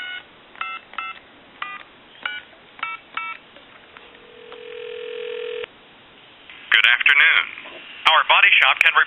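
A clear Radio Shack Trimline telephone dials out: a quick series of short touch-tone beeps, then a steady tone, followed by a loud recorded voice over the line.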